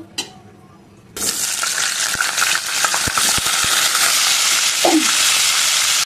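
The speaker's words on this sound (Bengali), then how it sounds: "সবজি তেলে ফ্রাই করে নিচ্ছি।" After a quiet start, a loud hiss of vegetables hitting hot oil bursts in and keeps sizzling, with a few clinks and stirring noises.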